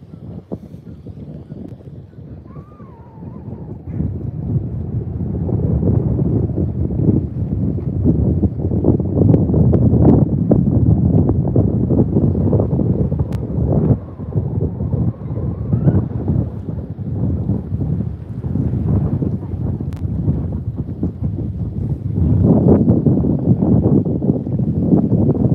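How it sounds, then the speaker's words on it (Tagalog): Strong wind at a beach buffets the microphone in rough, rumbling gusts that rise and fall throughout, with faint background sounds beneath. "ang lakas ng hangin"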